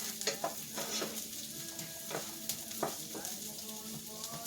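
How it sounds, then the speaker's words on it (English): Onions saute in a pan, a quiet steady sizzle broken by a few sharp spoon taps and scrapes against the pan. "So right now I'm just going to get these onions started and sauteed"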